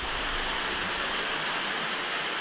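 Water gushes steadily from several inlets into a large 50 by 15 foot, 25,000-gallon backyard pool during a water change, a continuous rushing, splashing wash with no breaks and no voices.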